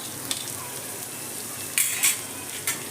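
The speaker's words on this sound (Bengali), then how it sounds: "পেঁয়াজ কুচি দিয়ে পেঁয়াজটাও রসুনের সঙ্গে ভালো করে আমি নেড়ে নেবো।" Finely chopped onion and garlic sizzle steadily in a hot pan while being stirred, with a few sharp scrapes and clinks of the spoon against the metal.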